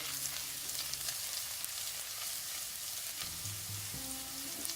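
Whole spices with red pepper frying in hot oil in a pan while being stirred, a steady soft sizzle with intermittent scraping and stirring noises, faint and close.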